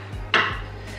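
Chopped white chocolate being scraped off a chopping board with a knife in a home kitchen, a single sharp scrape and clink standing out above a low steady background hum.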